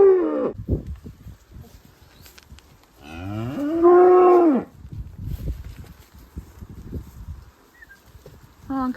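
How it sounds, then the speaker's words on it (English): Cows and calves on a farm being brought in for winter, with one long, loud, close moo in the middle of the clip, plus scattered shuffling and hoof sounds before and after it. "We are back for the cows and calves."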